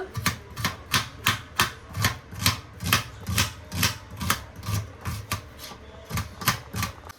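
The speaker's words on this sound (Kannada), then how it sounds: "ನೆಕ್ಸ್ಟ್ ಈರುಳ್ಳಿನ ಸಿಪ್ಪೆ ತೆಗೆದು ವಾಶ್ ಮಾಡಿ ಇಟ್ಕೊಂಡೆ. ಇದು ಕಟ್ ಮಾಡ್ಕೊಳ್ಳೋಣ." Knife chopping a peeled onion on a cutting board for tomato bath, a steady run of crisp, evenly paced cuts, close and fairly loud, with no talking.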